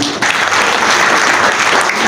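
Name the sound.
audience applause at a lovebird show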